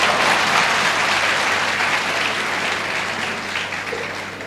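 An audience at a felicitation ceremony gives sustained, loud applause that fades slightly toward the end, with no one speaking over it.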